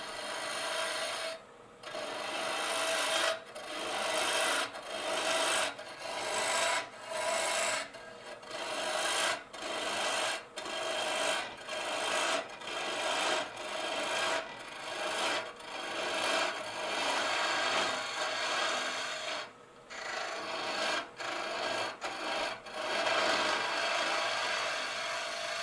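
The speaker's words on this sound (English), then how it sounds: "Using the carbide cutter, it's slicing, making shavings instead of sawdust." A carbide cutter slices into wood on a lathe while an egg cup is shaped and hollowed, producing a continuous rasping, shaving scrape broken by frequent brief pauses as the tool is lifted and repositioned.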